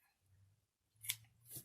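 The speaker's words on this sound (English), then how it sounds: "Yes, I know I'm not using my fabric scissors." Scissors, not fabric shears, snip through a small piece of lace for a matchbook craft, two crisp close cuts against a quiet background with a low hum.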